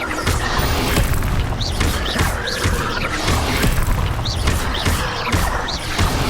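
Repeated booming spell impacts and crashing blasts from the Incendio fire spell in the Hogwarts Legacy video game, dense and loud, layered with clattering combat effects and occasional shouted incantations.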